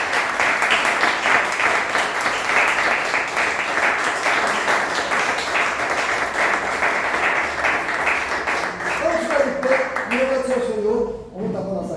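A church congregation claps in a steady, dense round of applause that holds for most of the clip, with voices and sung or spoken tones rising over it near the end as the clapping thins out.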